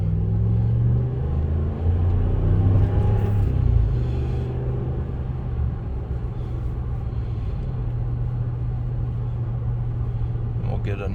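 A 2014 RAM 1500 Laramie pickup drives along with a steady low cabin rumble, the engine note dropping as it downshifts, while someone talks over the road noise.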